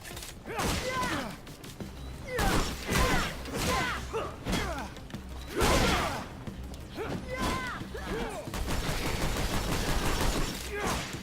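Gunfire in The Technomancer, with heavy shots and impacts recurring in irregular bursts over a busy, layered game soundscape, loud and close throughout.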